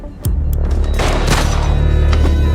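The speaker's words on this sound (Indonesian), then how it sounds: "Dua buah tembakan membunuh keduanya" Gunfire in an action film: a sharp shot lands, followed by a dense, booming burst with heavy low-end rumble and another sharp crack. The gunfire is loud and close, with no talking.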